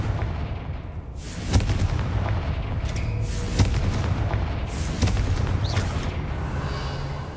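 Confringo fire-blast spells cast in the Hogwarts Legacy video game, several sharp booming bursts landing at irregular intervals over a dense, continuous rumble of game combat and ambience.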